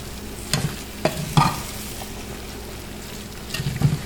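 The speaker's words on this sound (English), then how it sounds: "now you want to go ahead and turn your stove down to low heat, and we are gonna mix this rice" Rice and squash being stirred together in a pot on a stove over low heat, with a few distinct scraping stirs spaced apart and a soft sizzle between them, close and fairly quiet, no talking.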